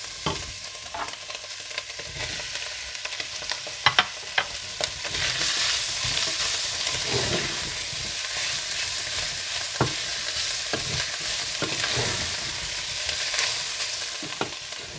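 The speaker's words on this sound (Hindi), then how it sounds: "और इसके बाद तैयार की हुई चिकन डालकर इसे मिला लें।" Cooked chicken stirred into a frying pan for Thai chicken noodles, with repeated scraping strokes of a spatula over a steady sizzle and no voices.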